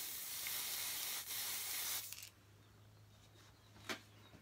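Spray foundation hisses from a can in a steady close-up burst for about two seconds. Short softer sprays follow after a pause.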